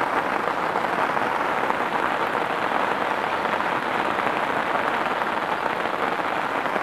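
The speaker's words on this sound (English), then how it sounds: "you probably can't hear me over this rain actually." Heavy rain pours down at a carp fishing lake, Hasse Fen, a steady, loud, even hiss of drops hitting the surface with no pauses and no voices.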